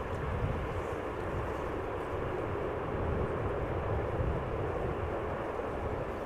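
An Embraer 190 airliner arriving from Newcastle at Amsterdam Schiphol gives a steady, broad jet roar that holds at an even level throughout, with no voices over it.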